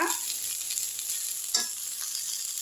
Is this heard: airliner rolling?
no